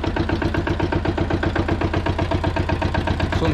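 A Goldoni Joker 8DS walk-behind tractor with a 7-horsepower engine runs steadily, a close, loud, even mechanical chugging with a rapid regular pulse throughout.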